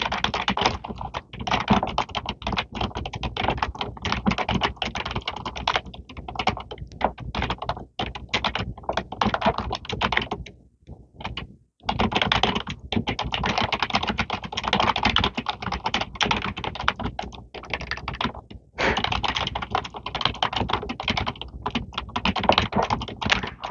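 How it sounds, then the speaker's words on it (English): Continuous close-up typing on a computer keyboard, rapid dense clicks and key taps running for over twenty seconds with a few brief pauses, soft ASMR-style and without talking. "and I will type"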